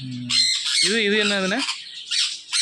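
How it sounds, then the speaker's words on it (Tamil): A young grey parrot for sale at a pet shop gives loud harsh squawks, a rising screech and sharp calls in a burst of about two and a half seconds, with a man's brief question overlapping at the start. "இது கிரே பேரட்ண்ணே."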